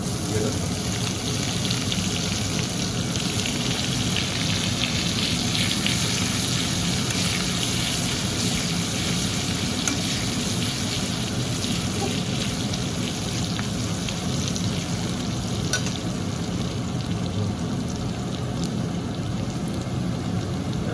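Garlic sizzles steadily in a hot pan as it cooks for chicken kosa, a continuous crackling hiss with no pauses.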